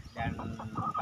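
Chickens clucking at a poultry-raising setup, a dense run of short, repeated clucks with a low background hubbub, fairly close and steady throughout the brief moment.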